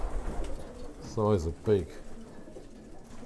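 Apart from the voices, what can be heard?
sprint racing pigeons in the loft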